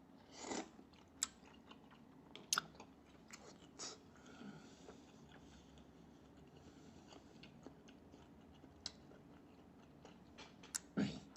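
Someone chews pan-fried buns with barbecue sauce and ketchup, producing quiet, close, wet mastication with occasional sharper bites and crunches spread across a long stretch without speech.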